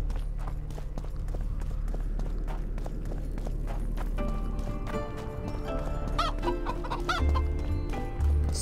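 Chickens cluck in a peaceful area of The Witcher 2 game, their soft clucks and short calls repeating over light music and ambient farmyard sounds, with horse hooves and neighing nearby and no talking.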